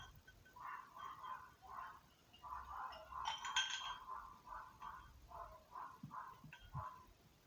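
Ice cubes clink softly against a glass of fizzy drink in a quiet room, in a run of light, bright taps and knocks. One louder chiming clatter stands out midway.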